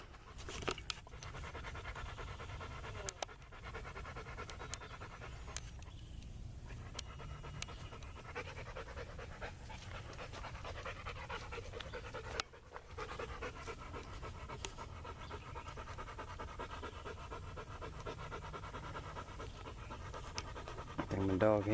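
A dog pants hard and steadily at close range for the whole stretch beside a river bottom at the Fort Worth Nature Refuge, with rustling and brief voice sounds mixed in.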